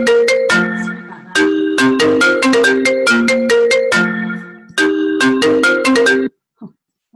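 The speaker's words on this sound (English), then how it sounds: "Somebody trying to phone me." Telephone ringtone ringing in a home during a gentle yoga session, a loud, close electronic melody repeating in three bursts of bright chiming notes before cutting off abruptly.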